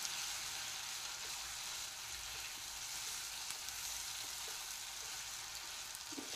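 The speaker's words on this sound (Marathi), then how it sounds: "मंद आचेवर आपल्याला तळायची ही चटणी, आणि तेल थोडं जास्त प्रमाणात घालायचं।" Red chutney fries over low heat in a generous amount of oil, giving a continuous soft, even sizzle that stays faint and steady throughout with no talking.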